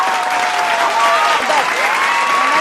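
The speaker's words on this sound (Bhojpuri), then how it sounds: "तो साथियों एक बार जोरदार ताली बजाइए" Loud, steady applause from an audience at a Bhojpuri comedy street-performer show, dense clapping continuing throughout with a faint voice or whistle-like tone drifting over it.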